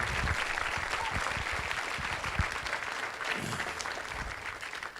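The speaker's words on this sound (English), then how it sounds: "Let's give Miller Electric a big round of applause." Dense applause from an audience at a community campaign kickoff event, steady and loud throughout, with some crowd murmur underneath.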